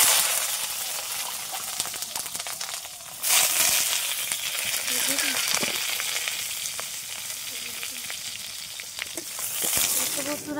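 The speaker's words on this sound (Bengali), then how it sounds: "তেল গরম হয়ে গেছে, বেগুনটা দিয়ে দেবো কড়াতে।" Eggplant sizzles and fries in hot mustard oil in a wok, giving a steady crackling hiss that swells as pieces are stirred, with a few clinks of utensils and no talk.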